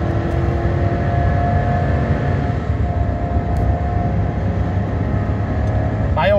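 Pickup truck engine at full throttle climbing a hill while towing, a loud, constant droning roar with steady road noise that holds without letup throughout.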